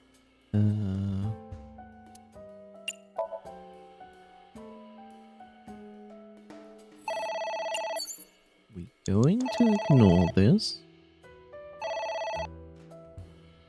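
Electronic phone ringing in the video game AI: The Somnium Files, repeated rings in bursts between stretches of game music, with someone talking over parts of it.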